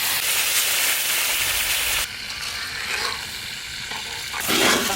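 Meat frying and sizzling in hot oil in a pan, with a steady loud hiss that softens midway as it is stirred, then swells again near the end.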